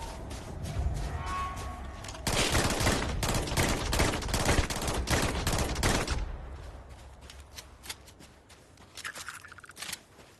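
Rapid gunfire from a video game, a dense burst of automatic shots that rises sharply and stays loud for several seconds before trailing off into scattered fainter pops and scrapes.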